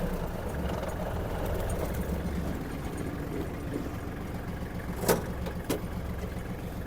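A Kubota GL-21 Japanese mini tractor's engine runs at full speed with a steady, loud low drone, joined by two brief clanks near the end.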